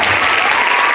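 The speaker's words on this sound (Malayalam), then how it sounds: "അപ്പോൾ നല്ലൊരു കൈയടി അവസാനമായി എല്ലാവരും." Audience at a school inauguration bursting into a loud, dense round of applause, close and steady for a brief moment with no voices over it.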